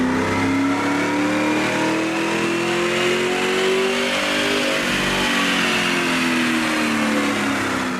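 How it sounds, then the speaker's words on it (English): A 2005-10 Mustang with the 4.6L 3V engine pulls hard on a dyno, its loud engine note climbing steadily through the run in one sustained, close roar with no voices. "We begin with the baseline dyno run."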